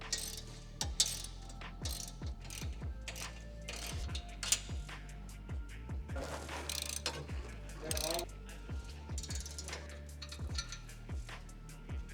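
A ratchet loosening the crash bar bolts on a Toyota 4Runner during a front winch bumper install, with rapid repeated clicking bursts in a steady rhythm, close up and without talk.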